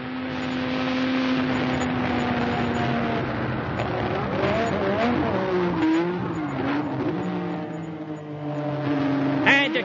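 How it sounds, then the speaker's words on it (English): A race car accelerates hard on the Imola circuit, its engine note rising and shifting through gears in a loud, continuous, sweeping roar with several pitch drops between climbs. "Accelerating up over the hill to Piratella."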